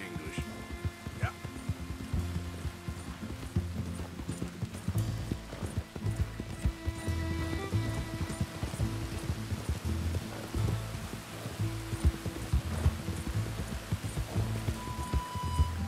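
Horse hooves clip-clop at a steady walking rhythm through rain in the video game Red Dead Redemption 2, close and continuous with rainfall hissing beneath and a soundtrack underneath.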